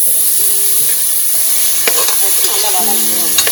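Tomatoes sautéed in a pan with browned onion and cashews for mint rice, a loud steady sizzle broken by a few sharp scrapes and clinks of a stirring spoon, close up and without talk.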